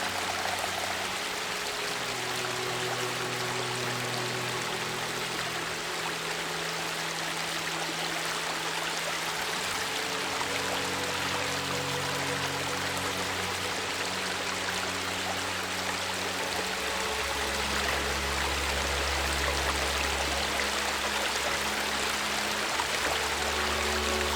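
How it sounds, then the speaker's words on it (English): A waterfall in the video game Hindsight roars steadily, a dense continuous rush of falling water with low tonal game music underneath, no talking. "Interesting waterfall."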